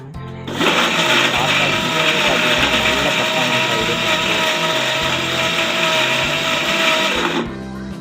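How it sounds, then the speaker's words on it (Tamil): A rechargeable mixer grinder grinding carrots runs loudly and steadily for about seven seconds, a dense whirring motor roar that starts abruptly and cuts off near the end. "அம்மா மிக்ஸி இந்த அளவுக்கு அரைக்கிறது பெரிய ஒரு அதிசயமாகவே இருந்தது எனக்கு"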